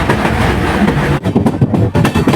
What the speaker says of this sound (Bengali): আমাদের ট্রেনে এখন ঢুকছে নিউ ফারাক্কা।